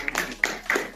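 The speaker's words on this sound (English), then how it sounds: "Give him a round of applause." A few scattered claps from a small audience at a live training session, brief and uneven bursts close by, only about a second long.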